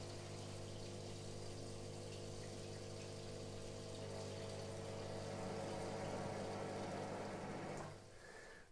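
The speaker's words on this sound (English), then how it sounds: "I first need to make sure that the water is drained from the steam cylinder" Water drains from the steam cylinder of a HygroMatik HeaterLine electric heater steam generator with a steady pumping hum and rushing flow that carries on evenly and then cuts off sharply near the end.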